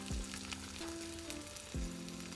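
Potato pieces frying in very hot oil, a steady broad sizzle running throughout with low tonal hum and a couple of soft thumps, close and even.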